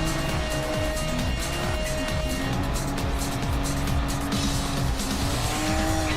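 Porsche race cars, one from 2000 and one only a couple of years old, racing with a continuous loud engine roar and tire squeal, close and sustained throughout.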